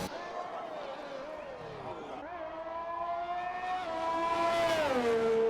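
F1 2021 race cars lapping in the video game at Australia, with a high engine whine rising and falling through gear changes and building louder toward the end, with commentary voices mixed underneath.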